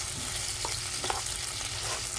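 Lechon paksiw frying and sizzling in a pan, a steady close hiss with a few faint stirring clicks, no voices.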